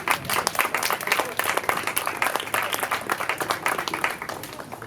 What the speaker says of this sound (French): je vous demande de bien vouloir applaudir Xavier